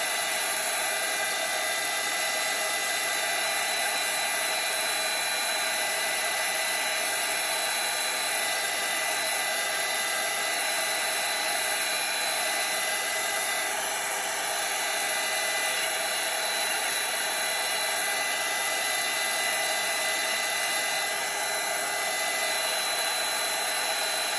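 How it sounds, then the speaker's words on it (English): Loud heat tool blowing hot air to melt craft wax for faux vintage labels, a constant whining fan roar held steadily throughout, close and alone. "I'm going to use my hot heat tool just to get this to melting."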